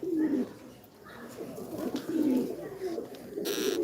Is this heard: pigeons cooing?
yes